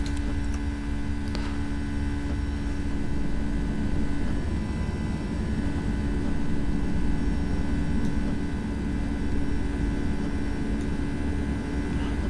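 A Boeing 757-300 jet in X-Plane 11 climbs out after takeoff from Frankfurt, a loud, steady engine roar and hum from inside the aircraft, constant throughout with no voices.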